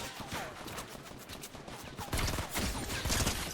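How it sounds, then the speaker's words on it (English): Gunfire crackles in the Fortnite video game as rapid, sharp bursts of shots, some distant and some nearer, with the volume swelling into a denser flurry partway through and no talking over it. "And that's when I started getting shots."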